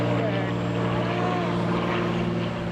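Propeller warplanes, a B-17, a P-51 and a Corsair, flying together in a sortie, giving a steady, close droning engine hum with layered tones throughout, with voices present.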